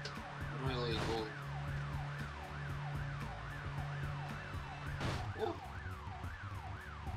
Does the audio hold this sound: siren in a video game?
yes